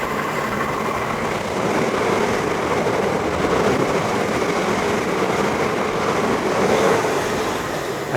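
A train pulls into a station on the South Eastern Main Line, a continuous loud rumble and rolling clatter of wheels on rails, steady throughout with no talking.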